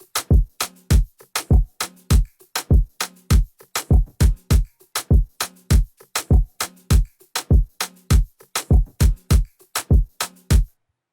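A reggaeton beat of kick, snare and bass together pulses in a bouncy, steady rhythm of punchy hits, loud and upfront with no voices.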